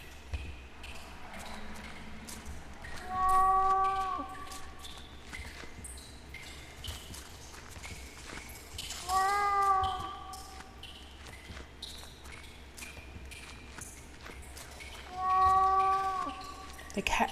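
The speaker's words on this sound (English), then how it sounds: "The cat seems to be behind this wall." Three separate cat meows come from behind a wall in The Last Door, spread several seconds apart and fairly faint, over a steady low ambient hum with soft shuffling movement in between.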